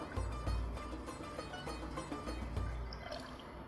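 Water poured into a pot of soup with bird's tongue pasta, a faint, steady splashing and gurgling stream close by with small drips.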